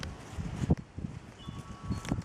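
Wind buffets outdoors beside a BMW 328i xDrive rental car, giving low rumbling gusts and faint rustling, moderately loud and steady with no talk.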